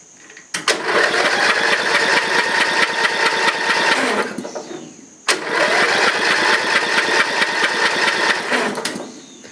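Small engine running during an inline spark plug test, roaring loud and close in two bursts of about four seconds each, each one starting abruptly and dying away.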